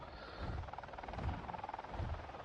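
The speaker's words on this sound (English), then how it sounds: "You can hear RDA helicopter nearby." A military RDA helicopter from the Avatar Frontiers of Pandora game, heard nearby as a steady rotor drone with a pulsing low-end whump that swells and fades a few times.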